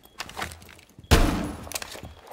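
A single loud shotgun blast rings out up close in the tactical shooter Rainbow Six Siege, a sharp heavy crack with a lingering tail amid faint in-game background noise.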